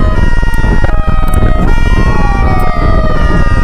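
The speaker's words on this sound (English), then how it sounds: "More police cars are heard." Loud wailing police sirens overlap, several rising and falling tones weaving together close by, with no talking.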